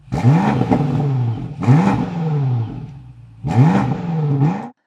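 Three loud engine revs in a row from a BMW X5 M Competition sports SUV exhaust, each pitch climbing then dropping back, with brief pauses between the bursts.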